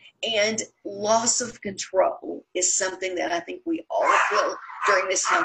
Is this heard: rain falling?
no